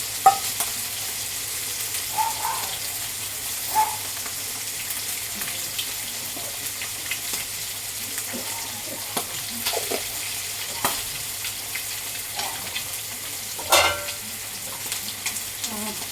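Fish fries in a pan with a soft, continuous sizzle, broken by occasional light scrapes and knocks as it is stirred; moderately close, with no voices.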